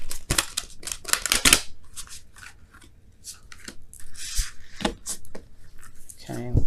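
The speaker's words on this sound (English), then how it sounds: "I'm going to do the same shuffle for wisdom, the whispers of love." A deck of tarot cards being shuffled by hand: repeated crisp riffling and rubbing bursts, close and uneven in rhythm, with brief pauses and a voice near the end.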